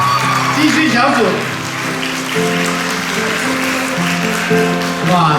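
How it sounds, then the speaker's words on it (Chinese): Clapping from a church dinner crowd carries on steadily through the whole stretch, mixed with music and a little speech or cheering on top. "掌声不要断！"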